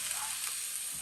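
Lamb sautéing in a pot for sweet potato chili, a steady bright sizzle held at an even level, close and alone.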